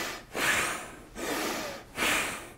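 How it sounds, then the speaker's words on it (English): Three forceful Bhastrika bellows breaths, each a loud, rushing nasal blast of air close to the mic, separated by short pauses in an even rhythm. "It's a bellows breath where you breathe in"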